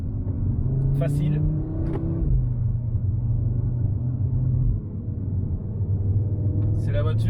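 An Audi RS3 Quattro drives a race circuit that is slippery in grey, wet weather. Its steady engine rumble sits underneath someone talking almost the whole time, with a brief dip midway.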